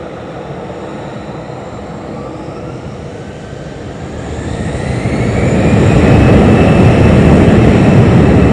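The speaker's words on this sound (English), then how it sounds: "And there goes the Lufthansa back up to Munich." Lufthansa airliner taking off from Lanzarote airport, a loud, steady jet engine roar that swells and grows louder over several seconds, heard alone without talk.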